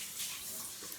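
A shower runs in a steady, close hiss of falling water that continues without break.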